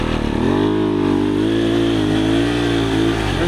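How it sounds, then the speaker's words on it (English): A 450 rally dirt bike held at high revs while its rear tire spins in loose mud, a loud, steady, buzzing engine drone that barely changes pitch. "You're in the same spot, you're smoking your tire."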